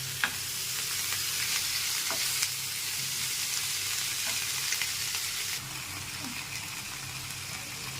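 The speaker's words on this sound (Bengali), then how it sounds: "শাকটা ভাজা ভাজা হয়ে গেছে" Malabar spinach greens fry in a pan with a steady close sizzle and occasional stirring clicks, the hiss dropping slightly in level near the end, with no talking.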